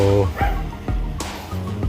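A dog barks and yips several times in quick, uneven bursts, fairly close, while a person talks over it.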